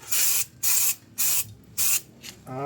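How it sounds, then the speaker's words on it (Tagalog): Four sharp bursts of aerosol brake cleaner sprayed onto a Nissan Navara's noisy brake pads, each about half a second long, evenly spaced with short pauses, loud and close, with no talking. "medyo ganito yung dating ng pag-spray"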